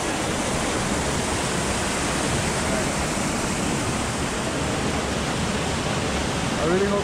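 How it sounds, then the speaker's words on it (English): A waterfall at Charco Azul roars as a steady, dense rush of broadband falling water, loud and close, filling the whole stretch evenly, with a voice faintly heard underneath. "there's a waterfall"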